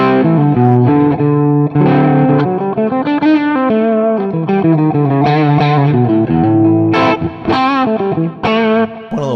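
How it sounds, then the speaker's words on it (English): Electric guitar through a small amp with modulation, delay and reverb, played on the bridge pickup. Loud, driven chords and single-note runs ring with a chorus-like shimmer and echo tails, with no talking. "I just have a little mod and some delay and reverb. I think mod sounds great with this amp"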